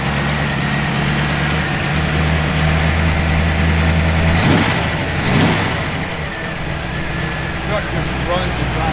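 A 1956 Chevrolet 3100 pickup truck's engine idles with a steady low rumble and a slight knock, swelling briefly twice, while someone talks over it close by.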